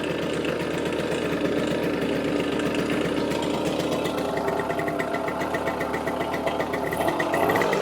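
A Casal K197 moped engine idles steadily up close, a continuous low putter with a faint rattle, no voices.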